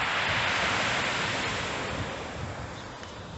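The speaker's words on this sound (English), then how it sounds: "The sea's flattened off loads." Sea waves wash steadily at Chesil Cove, Portland, Dorset, a continuous broad roar of surf with some wind noise, loud and close, gradually easing slightly.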